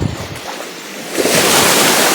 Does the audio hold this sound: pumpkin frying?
no